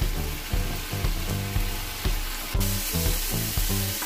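Ground meat sizzling in a pan while frying for pinakbet, a constant hiss and crackle with a bright tone. Regular stirring thumps and scrapes come about every half second.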